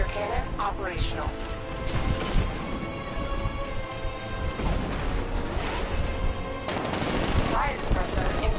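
Tank cannon fire from an unmanned tank's 60mm gun in Batman: Arkham Knight in Chinatown, a dense run of booming shots and crashes under continuous game sound and voices.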